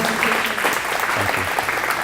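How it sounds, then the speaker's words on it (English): A conference audience breaks into a round of applause, with dense, steady clapping that stays loud throughout. "can we all give him a round of applause?"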